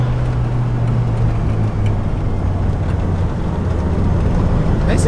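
A Lexus 3UZ-FE V8 swapped into a car rumbles with a steady low engine drone close by, holding a fairly even tone with slight throttle changes throughout.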